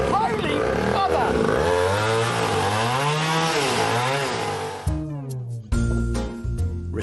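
A small leaf blower engine fitted into a homemade machine revs loudly and unevenly, its pitch rising and falling before cutting out briefly near the end, with voices over it.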